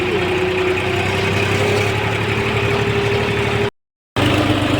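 A steady, low engine idles close by with a constant rumble and a faint droning hum, cutting out briefly near the end before resuming.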